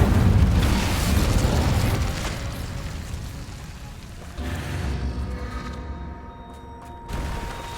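In Hogwarts Legacy, an Incendio fire spell is cast in a cavern, a roaring burst that gradually fades, followed by a second whooshing blast and then a brief third one.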